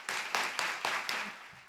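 Audience applause welcoming Dr. Leah Lehmbeck to the lectern at a "Rodin Revisited" talk, a dense wash of clapping with several swelling bursts before fading out.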